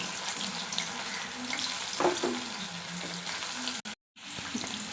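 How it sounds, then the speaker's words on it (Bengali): Okra pieces frying in hot oil in a home Bengali kitchen, a steady close crackling sizzle with faint stirring scrapes, briefly cutting out near the end before resuming. "ঢ্যাঁড়সগুলো আমি ভেজে নেব।"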